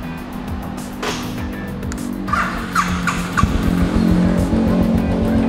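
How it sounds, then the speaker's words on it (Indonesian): A Royal Enfield 500 Classic motorcycle idles and is revved, its exhaust putting out a loud, close thumping rumble with rising revs partway through. "Oke, kita tes suara ya knalpotnya"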